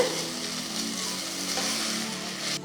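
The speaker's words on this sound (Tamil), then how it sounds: "இஞ்சி பூண்டு பேஸ்ட் போட போகிறேன் போட்டு நல்லா மிக்ஸ் பண்ணிவிடுங்க" Steady sizzling of ginger garlic paste frying in hot oil for kuska (plain biryani), with stirring scrapes, close and continuous, no voices.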